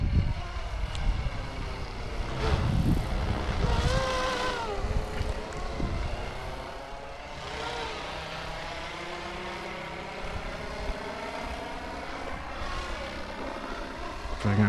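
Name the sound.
Flywing FW450 Airwolf RC helicopter flying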